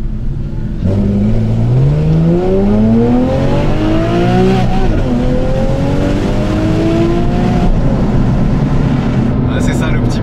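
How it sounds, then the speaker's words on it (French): A Porsche 911 Carrera GTS engine revs hard after a downshift, its pitch climbing steadily through the gear as the car accelerates, loud and close from inside the cabin, with road rumble underneath and a voice speaking over it. "c'est d'ouvrir la fenêtre, descendre un rapport et mettre les gaz"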